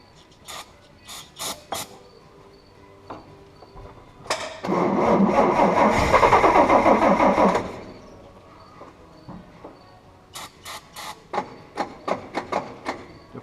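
A 1956 GMC engine with a worn starter clicks a few times, then cranks with a loud grinding, whirring churn for about three seconds before stopping, followed by more sharp clicks and clunks.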